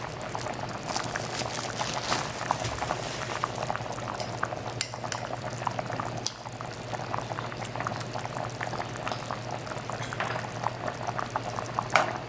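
Fish broth simmers and bubbles in a pot during Caribbean home cooking in Trinidad, with a steady close boiling burble and occasional light utensil clinks.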